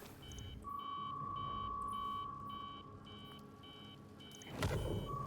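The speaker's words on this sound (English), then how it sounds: "make sure that alarm is in the game and not in my apartment" Repeating electronic alarm beeps in the video game Actium War Rig, short regular pulses over a steady engine-like rumble, with a long tone running beneath and a brief burst of noise near the end.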